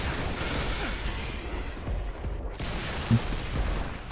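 Gunfire from the video game Halo: Reach rattles in repeated bursts over rumbling battle noise, fairly loud and continuous with a sharper crack near the end.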